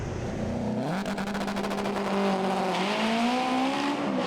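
Front-wheel-drive drag racing car, a TDI North entry at the 2018 FWD Drag Series, heard onboard, its boosted engine screaming loudly through rising gear pulls with a brief shift break, close and continuous.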